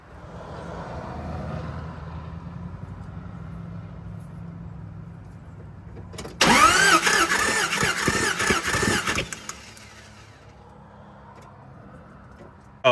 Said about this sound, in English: obviously engine sounded funny because it's got one spark plug in it